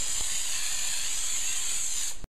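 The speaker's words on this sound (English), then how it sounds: "we're going to spray out the bottom piece" Steady aerosol hiss of adhesive being sprayed onto a car trunk liner piece, loud and close, continuous for about two seconds before cutting off abruptly.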